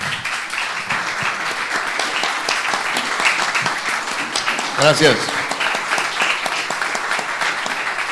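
Continuous audience applause at a book launch, dense clapping from a crowd throughout, with someone briefly speaking over it midway.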